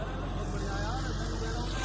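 A John Deere tractor engine drives an 8-foot rotavator through soil, a steady, close, low diesel drone that holds level throughout while people talk over it.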